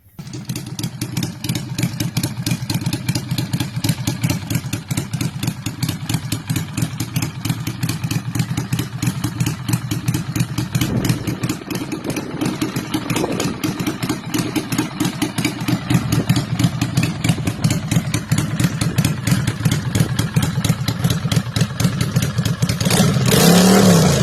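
A Harley-Davidson Street 500 with a Speedlord Works exhaust runs close and loud, keeping a steady, fast, pulsing idle throughout, with a slight rise in revs near the end.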